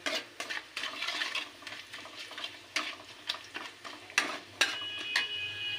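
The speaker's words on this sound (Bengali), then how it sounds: "এই এভাবে একটু ভালো করে নেড়ে দিতে হবে" Sugar is stirred in a cooking pan with irregular scraping and knocking strokes of a utensil against the metal, close and fairly loud, over a faint background sizzle. No voices.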